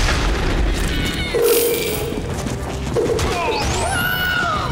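A thrown bomb exploding in the action game Sir Whoopass amid a fight: heavy booms and crashes under loud game effects, with a rising whooshing sweep near the end.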